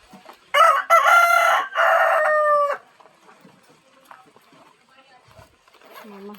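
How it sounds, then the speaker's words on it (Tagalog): A rooster crows loudly nearby on a Filipino country homestead, two long cock-a-doodle-doo calls, followed by quieter scattered clucks and faint background sounds. "Kaya nangayo na ang mga manok."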